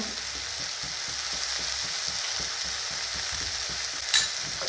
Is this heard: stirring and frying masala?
yes